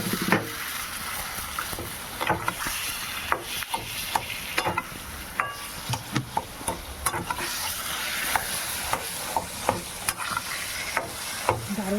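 Boiled, drained taro greens are stirred into a frying turmeric spice paste for a Bengali hilsa fish-head dish, a steady sizzle broken by regular sharp spatula taps and scrapes against the pan.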